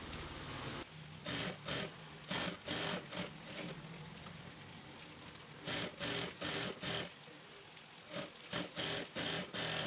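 Sewing machine running in short, repeated bursts while stitching the lining of a child's sharara dress, each burst a steady close whirring run separated by brief pauses, with no talk.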